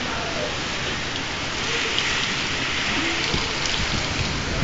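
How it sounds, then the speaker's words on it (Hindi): Very heavy storm rain pours steadily with strong wind, a dense continuous hiss of drops hitting surfaces that stays loud and unbroken throughout, with no voices. "बहुत शदीद किस्म की बारिश है यार"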